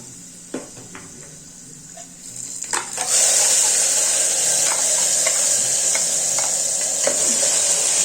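Ground spice paste and moong beans fry in oil with a loud, steady sizzle that jumps up after a few seconds of quieter stirring and scraping, with occasional clinks of a spoon against the pan.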